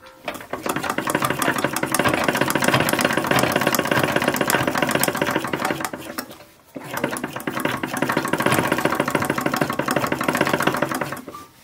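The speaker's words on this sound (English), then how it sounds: "And this will be the last bit of machine work for the day bodice." A sewing machine stitches trim onto an 1880s silk bodice, running loud and close in two long, continuous bursts of rapid whirring with a short pause between them.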